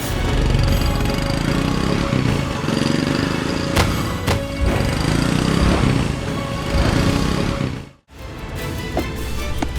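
A motorcycle engine runs close by with a loud, steady, rough rumble. It cuts out for a moment near the end, then picks back up.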